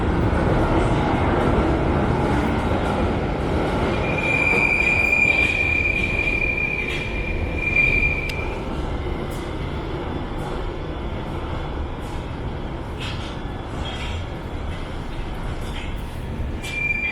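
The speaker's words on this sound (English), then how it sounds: "Please stand behind the yellow line as the train approaches." A London Underground train rumbles steadily into a station, its wheels squealing in a long high whine over the constant roar.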